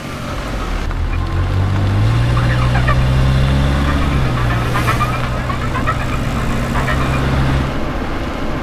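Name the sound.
car engine starting and driving off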